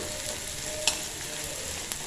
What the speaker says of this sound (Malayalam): നമ്മുടെ ചെറിയ ഉള്ളി നന്നായിട്ടൊന്ന് വറുത്തെടുക്കണം.